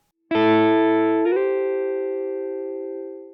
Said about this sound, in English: They slide double stops